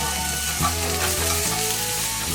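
Chicken pieces sizzle loudly in a hot pan as they are flipped over, a steady close frying hiss broken by soft shifts and thumps as pieces land on their other side.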